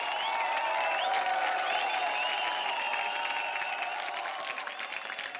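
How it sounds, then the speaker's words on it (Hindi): A studio audience on a comedy show applauds to welcome a performer, a dense, steady wash of clapping with whistles and faint crowd noise that holds for the whole stretch and eases slightly at the end. "जोरदार तालियों के साथ स्वागत करो क्वीन हरीश का।"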